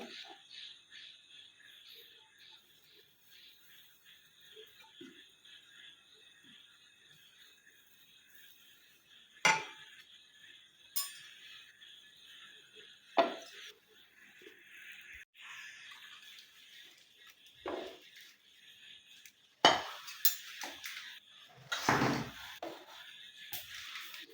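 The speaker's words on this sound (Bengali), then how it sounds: "মাঝে মাঝে এইভাবে কড়াইটা একটু পরিষ্কার করে দিতে হবে" A wok (kadai) is scraped clean during chitoi pitha making, with intermittent sharp metallic scrapes and clanks standing out over a steady, faint background hiss of cooking.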